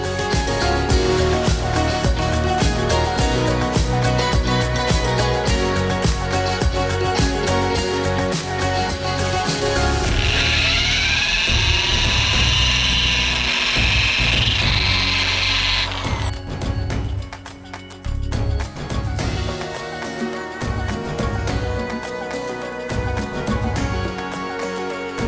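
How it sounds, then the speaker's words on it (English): Wire wheel spun by a drill scrubs a Nissan 300ZX brake caliper, a continuous harsh grinding whir, loud and close, with a brief shift in pitch midway and short pauses near the end. "a wire wheel set up on my drill, and it makes things relatively easy"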